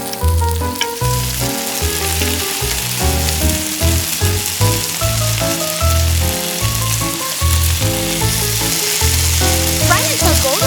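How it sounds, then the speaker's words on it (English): Breaded cheese balls fry in oil in a miniature pan, giving a steady, loud sizzle and crackle that runs the whole time beneath background music. "Drop the pellets into the oil pan one by one."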